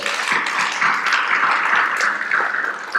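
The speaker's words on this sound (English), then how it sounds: "Let's give them a round of applause." A round of applause at a school board meeting, steady dense clapping from a small group of people, filling the room evenly for several seconds without talk.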